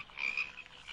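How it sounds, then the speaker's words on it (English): Frogs croak in a video game where a house is infested with them, a close, loud trilling croak rising in the middle and returning at the end, alone without speech. "Actually, house infested with frogs."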